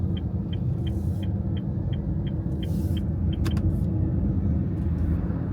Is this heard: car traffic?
yes